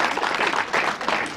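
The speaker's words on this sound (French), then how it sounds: "je pense qu'on peut, oui, en effet, applaudir" An audience applauds steadily, a dense patter of many hands clapping throughout.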